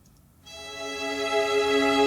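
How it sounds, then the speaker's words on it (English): A string pad joined by a violin ensemble in an EDM cover enters after a brief quiet moment and holds a full, steady chord that grows slightly louder. "Right, and if we add the violin,"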